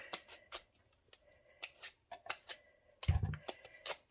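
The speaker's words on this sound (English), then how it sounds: "I'm going to go ahead and get all these rings cut, slices cut, and then I'll peel." A knife chops through a pumpkin being cut into rings and slices for canning and freezing, giving a string of crisp, irregular cuts and board taps, close and fairly quiet, with a heavier thud near the end and no talk.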